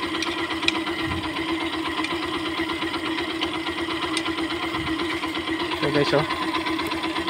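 A Yamaha YTX 125 motorcycle fitted with an oil cooler idles steadily and close, a rapid even putter under a man's speech, rising slightly toward the end.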